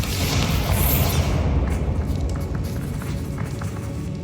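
A Bombarda blasting spell in Hogwarts Legacy goes off as a loud, dense boom that rolls on with rumbling debris across the whole clip.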